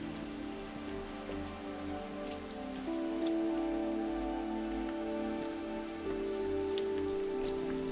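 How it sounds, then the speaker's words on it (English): Rain falls through cedar trees on the way to a Buddhist cemetery in Japan, a soft, continuous patter with scattered individual drops over a low steady hum. "The rain sifted through the cedar trees as we made our way towards the resting place of Kukai."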